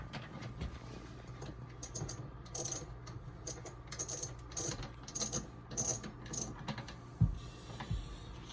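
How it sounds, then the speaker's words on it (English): A new freewheel spun by hand onto a mountain bike hub, an Iron Horse Rogue, giving a continuous run of quiet ratcheting pawl clicks in repeated bursts with a few soft knocks, close by and with no talk. "We'll spin our new freewheel on there."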